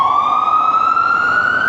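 An emergency vehicle siren wails on a New York street, loud and close, with a single steady rising tone over low traffic rumble.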